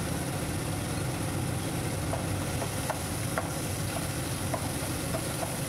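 Peeled, headless shrimp frying in a pan over a medium flame, giving a steady, soft, even sizzle with faint scattered pops and no talking.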